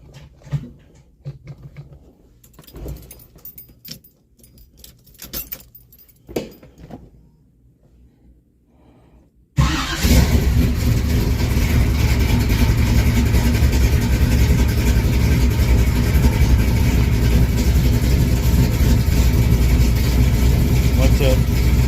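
A 1979 Camaro Z28 V8, freshly fitted with a four-speed, cranks over after quiet shuffling and bursts into a loud, steady idle that rumbles close by for over ten seconds.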